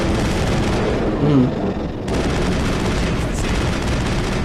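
Rapid rifle fire rattles almost nonstop during a Mass Effect battle against Geth, with dense, loud bursts that briefly ease and then surge again, and a voice is faintly audible underneath.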